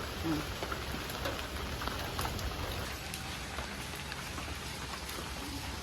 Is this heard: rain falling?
yes